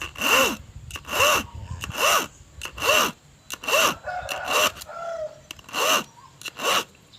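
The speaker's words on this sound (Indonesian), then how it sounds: "Kita tambah lagi pakai gergaji besi" Rhythmic back-and-forth hacksaw strokes rasp through a steel bicycle brake spring, about a dozen even pulls and pushes close by, with a faint bird chirping in the background.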